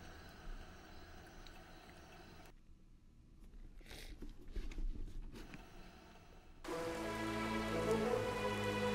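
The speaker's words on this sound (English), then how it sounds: "it's still raining" Steady rain pattering in the video game A Hat in Time, broadband and continuous, thinning briefly in the middle before returning louder and denser, with no voices over it.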